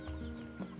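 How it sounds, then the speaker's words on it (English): Chickens cluck in the video game NieR Replicant, one short clucking call heard close and alone over quiet game ambience. "I see chickens."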